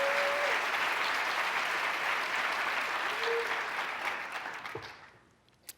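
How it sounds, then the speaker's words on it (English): A State of the State address audience breaks into sustained, dense applause that fills the hall, holding steady before thinning out and fading, with a final lone clap at the end. "Let everybody clap."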